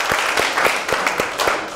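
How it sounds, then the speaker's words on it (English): Applause from a small group of improv workshop participants: a brief burst of hand claps in a loose, fairly regular rhythm, close and clear, with individual claps distinct. "Round of applause for everyone."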